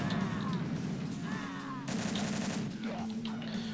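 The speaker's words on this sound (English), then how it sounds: "Now, this weapon can now shoot things" Rapid weapon fire in the Zandronum game mod Hells Realm 2, a dense continuous barrage of loud synthetic shots and booms layered with whining tones, filling the whole stretch without any talking.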